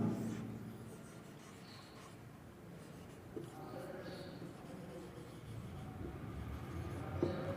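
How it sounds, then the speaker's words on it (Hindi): Chalk or marker scratches and taps on a board in a classroom lesson, faint and intermittent, with a voice speaking softly over a low background hum. "जैसे मैं लिख देता हूं"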